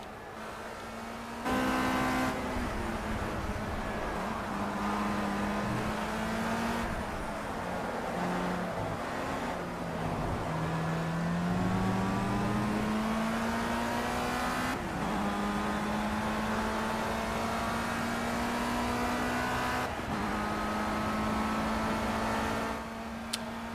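A race car engine in the Project CARS racing game holds a loud sustained drone, its pitch rising and falling through gear shifts and revving, with brief tire noise and no talk.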